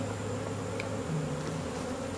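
Honey bees hum softly and steadily around hive frames as they are slid aside, a faint, continuous drone with no voices.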